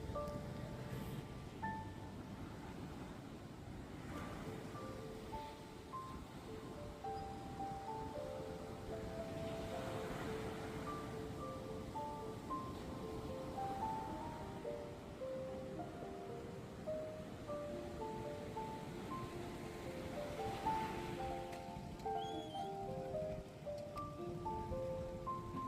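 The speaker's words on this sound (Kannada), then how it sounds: "ದಯವಿಟ್ಟು ಈ ಬೀಚಲ್ಲಿ ಯಾರೂ ಇಳಿಯೋಕ್ಕೆ ಹೋಗಬೇಡಿ, ಏಕೆಂದರೆ ಇಲ್ಲಿ ಒಮ್ಮೊಮ್ಮೆ ಅಲೆಗಳು ತುಂಬ ಜೋರಾಗಿ ಬರುತ್ತೆ." Ocean waves at Rock Beach in Pondicherry make a steady, continuous roar and wash of surf with no speech, holding an even level throughout.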